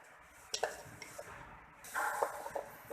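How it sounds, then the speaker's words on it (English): Cabbage and mixed vegetables sauteing in a pan for a soup, a faint soft sizzle under scattered light stirring clicks and scrapes, heard alone without talking. "Then add cabbage. Okay, saute it nicely again for 30 more seconds."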